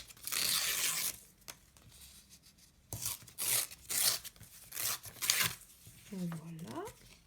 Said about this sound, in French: Donc là, bah, on déchire.